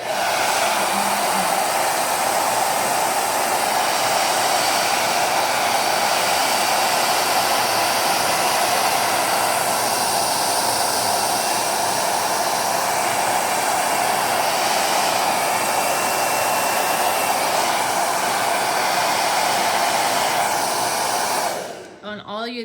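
A hair dryer drying clay blows continuously at close range, a loud steady whoosh that runs almost the whole time before cutting off at the end.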